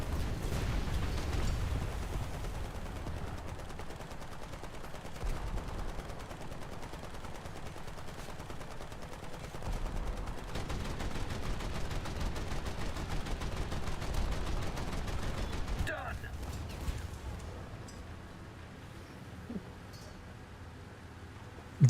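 Naval guns boom and rumble through a warship video game battle, with a dense, continuous stream of firing and distant blasts that eases off near the end.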